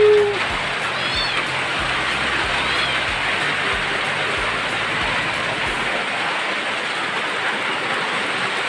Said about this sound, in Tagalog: malakas po talaga yung ulan ngayon